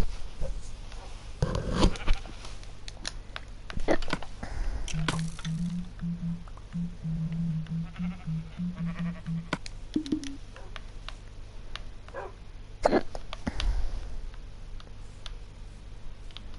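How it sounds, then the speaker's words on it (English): Sheep in a multiplayer survival video game let out a few short bleats in the middle of the clip, mixed with clicking game sounds and occasional voices from the players. "What'd you do if I killed those sheep?"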